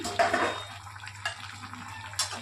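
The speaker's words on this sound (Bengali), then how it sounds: "এবার আরেকটুখানি নাড়াচাড়া করে নিচ্ছি, জলটাও একটু টানবে।" Country chicken curry being stirred in a pot once the lid is off: scraping spoon strokes and light clinks against the pot over a low background hum, with no talking.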